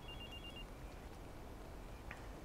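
A phone rings in the video game Watch Dogs, a faint electronic ringtone with a short repeated pattern at the start, then quiet game ambience with no speech.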